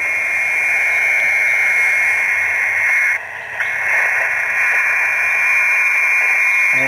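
A radio receiver hisses with steady static noise and a strong tone band while a Chameleon P-Loop antenna is tuned for peak noise in the field, loud and continuous with a brief dip midway.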